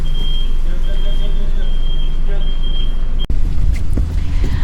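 A reversing lorry's steady high beeper sounds on an Istanbul street under heavy wind noise and low traffic rumble, cutting off abruptly partway through as a thump and voices follow.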